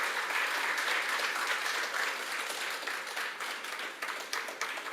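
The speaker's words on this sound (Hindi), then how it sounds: "मैं चाहता हूँ कि आप उसके सम्मान के लिए एक जोरदार तालियों का दौर हो जाए।" Sustained audience applause fills a hall at an Indian Association of Thailand event honouring Netaji Subhash Chandra Bose, a dense steady wash of many hands clapping that tapers slightly toward the end.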